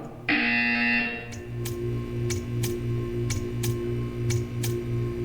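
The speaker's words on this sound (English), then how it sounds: "You will hear a buzzer. When you hear the buzzer, stare at the art." A test-chamber buzzer in the video game Portal 2 sounds as a steady, loud tonal drone for about a second, followed by a regular series of sharp ticks over a low hum.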